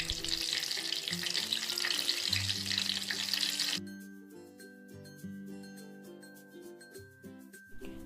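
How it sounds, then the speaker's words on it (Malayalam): Batter-dipped apple bajji deep frying in oil gives a loud, dense sizzle for the first few seconds, then cuts away to music that continues to the end. "അപ്പോൾ നേരത്തെ പറഞ്ഞ പോലെ തന്നെ മാവിൽ മുക്കിയിട്ട് പൊരിച്ചെടുക്കുക"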